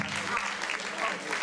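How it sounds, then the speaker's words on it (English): A crowd at a New Year raffle applauds its winner with a dense, steady patter of clapping that fills the whole short moment, with no voices heard. "Please give a big round of applause for our winner"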